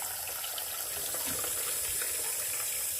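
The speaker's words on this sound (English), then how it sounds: "I'm going to add 1 more cup of water." Water from a cup pours in a steady, soft gush into a bowl of stuffing, close and continuous for a few seconds with no talking.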